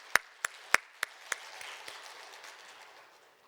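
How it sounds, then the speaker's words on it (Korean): A church congregation at a Friday night healing service claps in praise after a hymn, a few loud distinct claps at first that quickly thin into faint scattered clapping and fade away. "하나님께 영광의 박수 함께 올려드리도록 하겠습니다"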